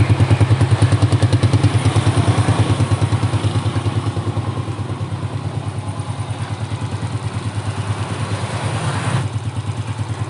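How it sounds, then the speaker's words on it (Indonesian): A motorcycle engine idles smoothly up close, a steady even putter with a fast regular pulse and light mechanical clatter, loud and unbroken for the whole stretch. "suara mesinnya halus"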